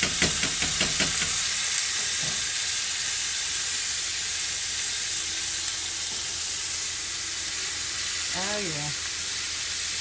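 Philly steak meat and vegetables sizzle and fry steadily in a pan, a loud continuous hiss throughout, while someone speaks briefly over it.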